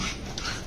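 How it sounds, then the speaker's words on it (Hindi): A dog makes a short, close vocal sound in the evening, more like a whimper or panting breath than a clear bark, heard alone against steady background noise. "परी भौंके जा रही है"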